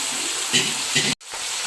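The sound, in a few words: pouring water into a cooking pot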